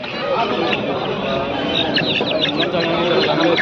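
A rooster clucks and calls at a busy Aseel chicken market in Krishnagiri, with other fowl around it and people chattering close by.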